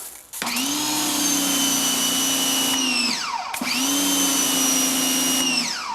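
A HART 1800psi electric pressure washer starts with a sharp whine that holds steady, winds down, then kicks on again and runs loud and even, alone without talk.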